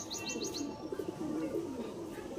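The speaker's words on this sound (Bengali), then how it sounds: "দেখে নাও তোমার পায়রা দুটো" Pigeons cooing softly at close range, a few low throaty coos with light chirps over quiet background, no talk.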